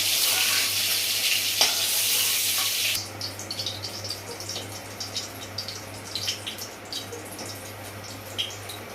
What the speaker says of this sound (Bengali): ভালোভাবে হয়ে গেছে করলাম আগে করে ভাজা পটলগুলো আমি তুলে নিলাম